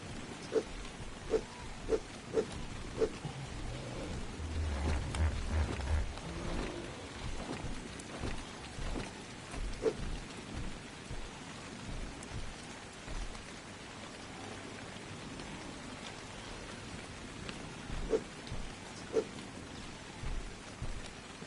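Steady rain in the video game Ark: Survival Evolved on The Island map, a continuous soft wash of falling drops with scattered louder taps and faint animal grunts, with no talk.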